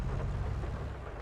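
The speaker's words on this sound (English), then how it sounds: "Yeah, thunderstorm." A thunderstorm in the farming game Farming Simulator 22 gives a steady, loud wash of rain and low rumbling that continues without a break, with no voices over it.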